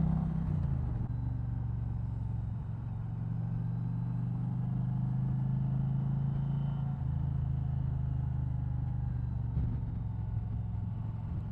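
An Indian Challenger motorcycle engine drones steadily while riding on winding West Virginia roads, a low continuous rumble that holds close and even throughout with slight shifts in pitch.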